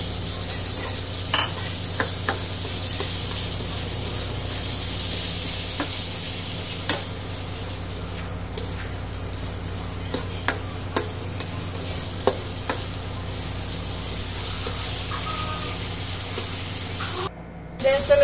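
Shrimp sizzles and fries in a pan for ginataang kalabasa, a Filipino pumpkin dish. A steady loud sizzle carries throughout, broken by scattered stirring clicks and a brief cut near the end.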